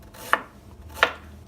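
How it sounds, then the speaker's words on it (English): A knife chops through ginger on a cutting board with two sharp, separate strikes about a beat apart, close and clear over a quiet kitchen background. "Peel the ginger, cut the ginger,"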